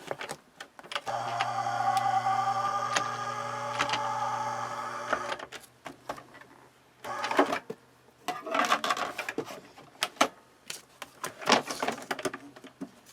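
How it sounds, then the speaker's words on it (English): An embossing folder pressing a pattern into washi tape on card stock in a craft room: a steady mechanical hum for several seconds, then a pause, followed by irregular clicks, rattles and cranking noises. "let's go ahead and emboss this."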